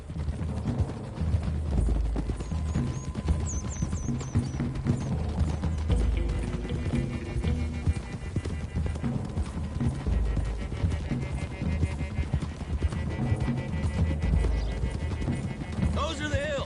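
Horses' hooves clip-clop steadily at a trot throughout in Red Dead Redemption 2, with occasional whinnies, a group of riders moving together under background music and ambient sound.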